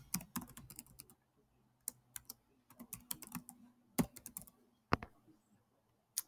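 Quick bursts of keystrokes on a computer keyboard as a sign-up form is filled in, close and fairly quiet, irregular clusters of taps with short pauses between them.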